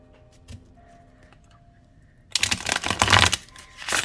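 After a quiet stretch with a few light taps, a deck of flexible tarot cards is shuffled up close, a rapid riffling flutter that runs to the end.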